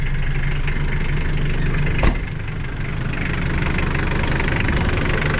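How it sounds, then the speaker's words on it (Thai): A used 1995 Mitsubishi Aero Body pickup truck engine idles steadily with an even, low rumbling hum and a brief sharp click partway through, close and fairly loud with no voices. "เครื่องยนต์ของเราเดินสมูทมากครับ"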